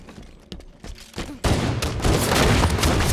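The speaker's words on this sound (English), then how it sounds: "Grenade out." Halo 5 combat in an Anniversary playlist: a grenade goes off after a quiet lull, then dense gunfire and explosions keep up loud and close for the rest of the moment.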